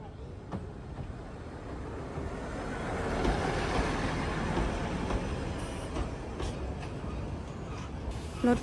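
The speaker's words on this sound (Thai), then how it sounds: "รถไฟมาแล้ว" A steady rumble of a steam locomotive train slowly drawing in builds and holds, with faint squeals and clanks at moderate distance, in Shizuoka, Japan.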